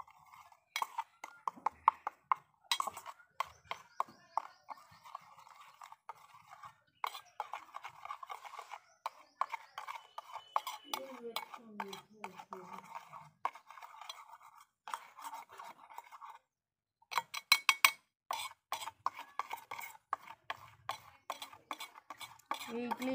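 A spoon stirs and mixes a homemade skin remedy in a small container, giving quiet, irregular clinks and scrapes with a brief pause partway through.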